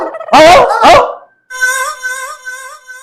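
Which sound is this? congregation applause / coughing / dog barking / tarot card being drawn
dog barking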